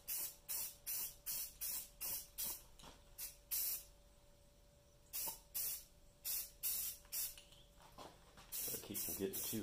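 Spray paint hissing from an aerosol can onto radio transformer coil cans in light coats, close short bursts in quick repeated rhythm, a pause, then more bursts, with brief talk near the end.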